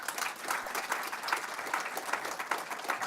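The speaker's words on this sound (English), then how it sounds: "Please give her another round of applause." Applause from the audience for a singer at a cricket board event, an even stream of many hands clapping at moderate distance, fairly soft and steady.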